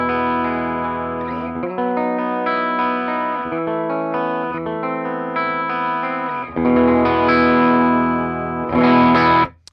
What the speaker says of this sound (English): and here is my clean tone